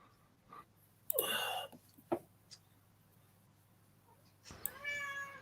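A cat meows in two clear bursts, one near the start and a longer one toward the end, with quiet room noise and small knocks between.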